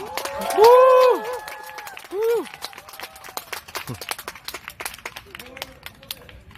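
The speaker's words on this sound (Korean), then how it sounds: "2023 실록의 포럼의 음악을 입히다 페스티벌을 여러분들의 큰 박수와 함성으로 시작하겠습니다" Crowd at the opening of a 2023 music festival in Seongnam whoops with rising shouts at first, then scattered sharp claps and cheers carry on more sparsely and thinly.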